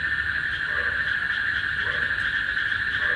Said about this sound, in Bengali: আমার কাছে এই ন্যাচারাল এই শব্দগুলা বা ব্যাঙের এই শব্দগুলা আমার কাছে খুবই ভালো লাগতেছে